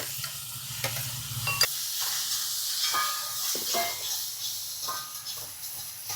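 Chopped tomato hits a hot frying pan and sizzles, a steady close hiss broken by a few clinks and stirring scrapes of a utensil in the pan.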